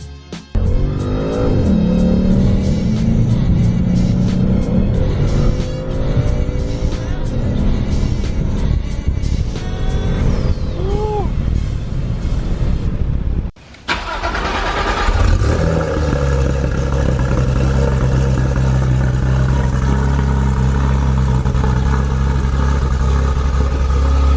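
A rental car driven hard, its engine revving loudly and climbing through the gears with bursts of tire squeal, then a brief cut before a steady loud engine drone continues close by.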